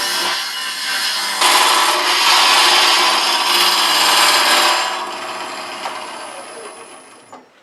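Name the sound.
wood turning Norfolk Island pine with a curved lathe tool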